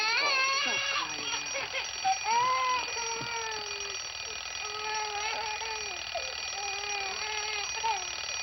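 An alarm clock in a 1962 film rings continuously and loudly throughout, while voices and a child's crying rise over it.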